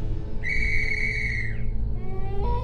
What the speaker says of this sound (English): she blew upon a silver whistle that hung around her neck